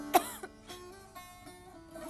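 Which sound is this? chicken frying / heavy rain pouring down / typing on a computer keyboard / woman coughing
woman coughing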